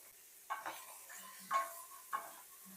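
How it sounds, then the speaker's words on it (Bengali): Mixed vegetables—peas, papaya, potato, beans and carrot—tipped together into hot oil in a wok, giving a few bursts of sizzle and stirring clatter against a quiet background, moderately close. "তেলটা গরম হয়ে গেছে, তেলের মধ্যে আমি দিয়ে দিচ্ছি সবজি, কড়াইশুঁটি, পেঁপে, আলু, বিনস, গাজর আমি সব একসাথে দিয়ে দিলাম।"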